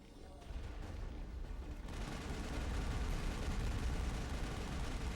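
Mako vehicle exploding in the video game Mass Effect: a dense, roaring burst of blast noise that swells loud after a softer start and keeps rumbling heavily to the end.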